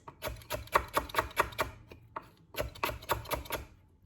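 A knife slicing lemongrass at an angle on a cutting board, a quick run of crisp, close chopping strokes, a short pause, then another steady burst of rhythmic cuts.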